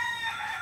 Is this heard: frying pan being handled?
no